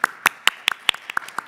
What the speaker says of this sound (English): All right, Grandpa, you just got a clap.